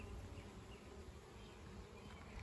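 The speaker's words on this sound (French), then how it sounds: "Toutes les abeilles butinent." Bees forage among garden plants in July, a continuous low buzzing hum that is faint and steady throughout, with no voices.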